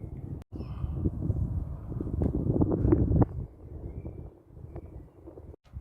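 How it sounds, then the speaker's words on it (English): Gusty wind by a lake buffets the microphone in rumbling bursts, rising and falling over a few seconds, fairly close and rough. "Windy here"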